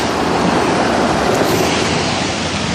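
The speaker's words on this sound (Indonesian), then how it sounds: "Ombaknya lumayan di Cimaja." Ocean surf at Cimaja beach in West Java rolls as a steady, dense wash of breaking waves, loud and continuous throughout with no voices.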